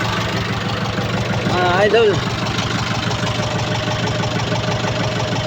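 A tractor engine idles steadily at close range, a low continuous rumble running the whole time, with someone speaking over it midway.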